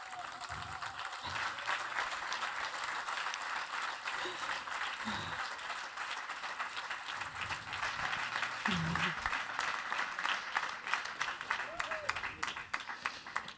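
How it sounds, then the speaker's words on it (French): Sustained audience applause and clapping fills the whole stretch at a steady, loud level, with scattered voices and cheers mixed in. "je veux un tonnerre d'applaudissements"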